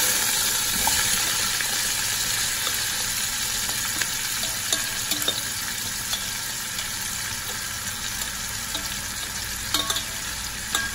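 Chopped herbs added to hot oil with fried chicken for brown stew chicken, a loud dense sizzle and crackle running continuously, dotted with small sharp pops throughout.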